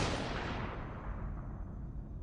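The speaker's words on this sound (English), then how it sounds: "a gunshot went off" A single gunshot rings out as a sharp, loud blast at the very start, then rolls away in a long, darkening echo that fades over the next two seconds.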